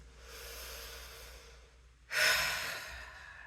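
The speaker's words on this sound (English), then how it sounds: "Take a nice inhale through your nose and exhale it out your mouth" A person takes a long, soft inhale through the nose, pauses briefly, then releases a louder, breathy exhale through the mouth that fades out, close and alone.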